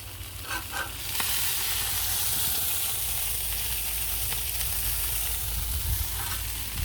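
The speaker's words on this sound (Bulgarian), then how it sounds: "може да видиш маслото се разтопява" Butter melting in a hot pan before homemade burgers are cooked, a steady, loud frying sizzle and hiss that starts abruptly after a second of quieter stirring and continues unbroken.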